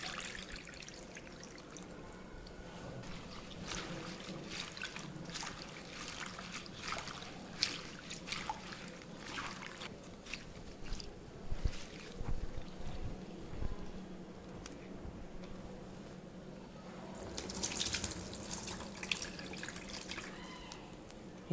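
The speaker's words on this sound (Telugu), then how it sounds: "దీంట్లో నీళ్ళు పోసుకొని ఇప్పుడు మనం దీన్ని క్లీన్ చేసుకుందాం." Gongura (sorrel) leaves are washed by hand in a bowl of water, with irregular splashing, pouring and dripping swishes close by and no talking.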